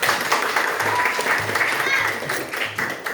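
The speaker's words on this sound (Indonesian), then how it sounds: "Oke, beri tepuk tangan untuk Bintang." A short burst of clapping from a small group of students in a classroom math activity, brief and fairly close, with a faint voice murmuring underneath.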